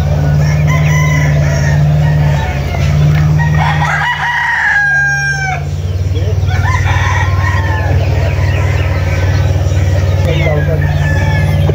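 Roosters crow repeatedly and chickens cluck at a game farm in Caloocan, loud and close over a constant background hum, while someone talks over the birds.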